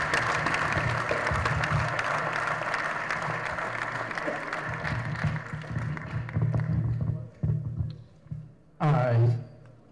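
A hall audience at the Nigerian Academy of Engineering annual lecture claps for an elderly honoree, dense sustained applause for several seconds that thins out and breaks into scattered claps near the end.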